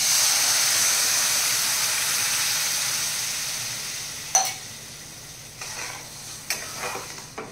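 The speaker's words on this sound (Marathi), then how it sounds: "आता आपण ह्याच्यामध्ये दूध टाकून घेऊया।" Milk poured into roasted semolina for a mango sheera sets off a strong steamy sizzle and hiss that slowly fades, followed by a few scraping stirs in the pan.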